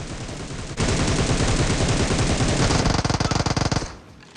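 UZI fire in PUBG Mobile ripping out as one loud, dense automatic burst lasting about three seconds, its final shots separating into rapid distinct cracks before cutting off abruptly.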